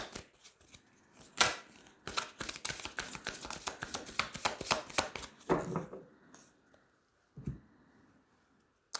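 Tarot cards are riffled and tapped in a rapid flurry of crisp shuffling clicks, then slow to a few separate taps as the deck is cut, close and fairly quiet.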